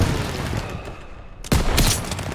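Sniper rifle gunfire in Call of Duty WW2: a single heavy, loud shot bursts out after a quieter stretch of background battle noise, its blast decaying over the following moment.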